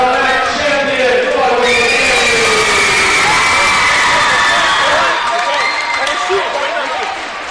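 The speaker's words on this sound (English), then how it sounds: "Let's give a round of applause for our next champion" A crowd at a basketball event applauds and cheers for a champion, a loud sustained roar of clapping and shouting voices that fades slightly toward the end, with an announcer talking over it.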